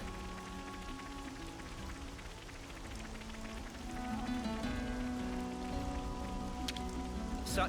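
Steady rain pattering over a desert in the game Xenoblade Chronicles 3, a dense continuous hiss of drops with game music tones underneath, growing a little heavier partway through.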